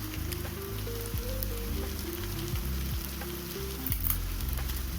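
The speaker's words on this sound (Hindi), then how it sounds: "तो चलिए सारे कुछ को अच्छे से भून लेते हैं।" Red chillies and bay leaves frying in a pan with onion and spices: a soft, continuous sizzle heard faintly under steady background music.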